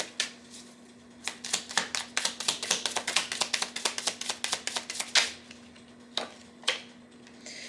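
Tarot cards riffle in a quick run of crisp, close snaps during a shuffle, followed by a few separate slaps as cards are drawn and laid down, over a faint steady hum.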